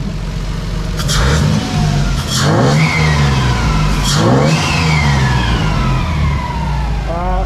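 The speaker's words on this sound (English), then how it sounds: "Car starts up real nice." Car fitted with a swapped Toyota 2JZ engine, running loud and close, revving up in three sharp bursts with falling whines between them, then settling into a steady run; no talking.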